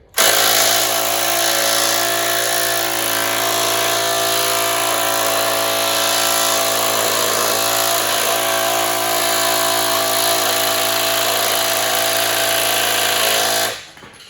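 A Bauer 3/8-inch power tool works at a part on a Mack Cruise Liner truck, running loud and steady for about thirteen seconds with a strained motor whine, then cutting off.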